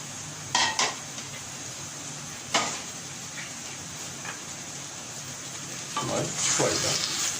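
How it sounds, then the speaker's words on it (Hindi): Steady sizzling of bitter gourds frying in a pan, with a few clinks of a utensil against the metal and a louder hiss building near the end. "इसमें मैं अब ये बिटर गोर्ड्स को फ्राई करूंगा।"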